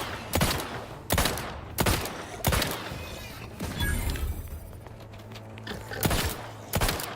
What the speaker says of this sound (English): Shotgun does have a lot of stopping power.